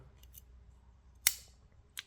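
Scissors on a 93mm Dragonox Swiss army knife snip once sharply, followed by a fainter second click near the end, close up in a quiet setting.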